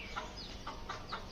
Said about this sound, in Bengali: মুরগিগুলো সব পলাই দিচ্ছে আমার দেখে।